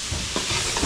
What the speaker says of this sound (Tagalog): So gigisa muna natin to. Bawang sibuyas